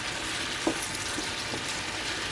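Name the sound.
onions being sautéed in a pan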